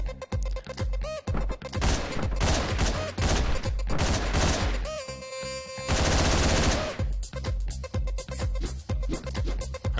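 Rapid repeated gunfire in the top-down video game Hotline Miami, with dense bursts of shots and impacts over loud electronic background music, carrying on almost continuously.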